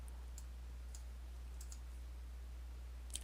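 Sparse, faint mouse clicks sound while selecting in CAD software, with a few isolated clicks spaced about half a second apart over a steady low hum, and a slightly louder click near the end.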